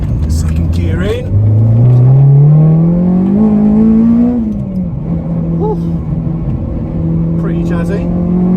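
Honda Civic Type R fitted with a K24 engine accelerating hard through the gears on country lanes, its loud engine note rising steadily then dropping at a shift and climbing again, heard from inside the car.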